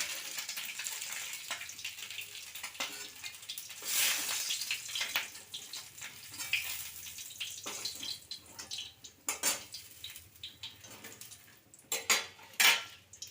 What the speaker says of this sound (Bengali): এবার তেল ঝরিয়ে মাছটাকে বাটিতে তেল তুলে নিচ্ছি